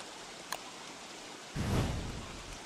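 Soft rain hisses steadily in the video game Don't Starve, swelling into a fuller, louder patch of rainfall partway through.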